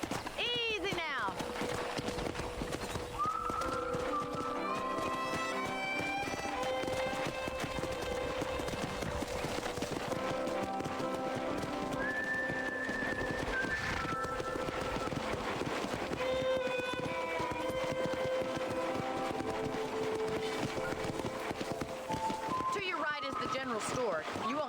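Horse hooves clip-clopping at a steady pace in the Western game Red Dead Redemption, continuous and fairly close, running beneath game dialogue, with a busy layer of other game sounds throughout.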